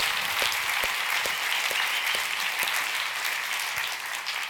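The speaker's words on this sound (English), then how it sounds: "another huge round of applause for our Super Bowl YouTuber, Casey Neistat" A crowd applauds at a Denver startup event, dense and steady clapping from many hands with a few sharper individual claps standing out near the front, held at a constant level throughout.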